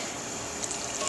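Proofed yeast and water mixture poured into flour for focaccia dough, a steady close liquid trickle with faint splashy detail, brief and continuous without speech.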